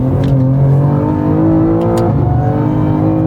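A BMW M2 CS accelerates hard on the Nordschleife, its engine note rising steadily and loud from inside the car, with a brief dip around a shift before climbing again.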